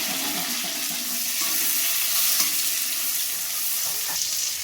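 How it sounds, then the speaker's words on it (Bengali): Chopped tomatoes fry in hot spiced oil in a pan, giving a continuous loud hissing sizzle without pause. "টমেটোটা দিয়ে একটু ভেজে নেব।"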